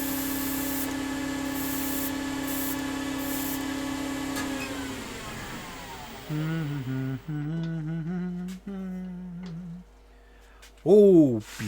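An airbrush used on a sunburst textured woodturned bowl is rinsed out and cleaned, starting with a steady hiss of spray and then turning into intermittent bursts and gurgles, with a voice heard near the end.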